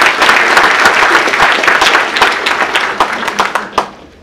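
Audience applause at a community event honoring a woman and her organization, a dense, loud wash of many hands clapping that holds steady, then thins slightly toward the end.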